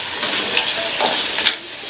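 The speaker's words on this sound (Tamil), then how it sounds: "மீடியம் ஃப்ளேமில் வச்சு 5லிருந்து 6 நிமிஷத்துக்கு இந்த முள்ளங்கியை வதக்கிக்கலாம்." Radish pieces sautéing in a pan over a medium flame give a steady, close sizzle and hiss with light stirring scrapes, continuous throughout with no talking.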